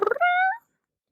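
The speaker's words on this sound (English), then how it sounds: "The mewing of a cat." A cat gives one short, clear, close meow, starting with a brief stuttering onset and then a sustained tonal cry that cuts off into silence.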